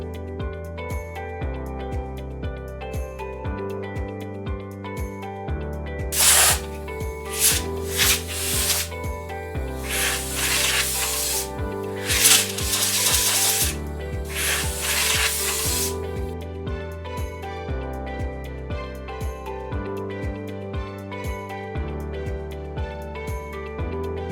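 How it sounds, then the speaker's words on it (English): A pneumatic air gun blows out the bore of a push-pull valve during a spool kit change, with two loud, hissing blasts lasting a few seconds each over steady background music. "the bore must be cleaned with the help of a pneumatic air gun or cotton cloth"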